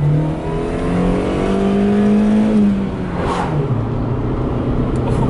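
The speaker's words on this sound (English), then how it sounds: "I'm gonna let Quentin drive the Civic, and he's gonna fucking rip it." A Honda Civic driven on bare wheels without tires accelerates hard, its engine note climbing steadily in a loud close drone, dipping briefly before rising again, with no speech.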